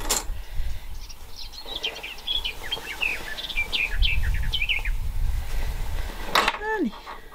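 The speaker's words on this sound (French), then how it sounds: "Les oiseaux ils chantent." Birds chirp and trill in bright, repeated bursts through a home sewing session, their calls continuing under a voice, with a low background rumble beneath them.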